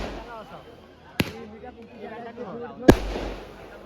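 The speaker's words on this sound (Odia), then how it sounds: "ସଟ୍ ଗୁଡା ଫୁଟିଲା ଦେଖନ୍ତୁ।" Fireworks shots at a village festival in Odisha, with two sharp separate bursts about a second and a half apart, heard close over ongoing talk between people.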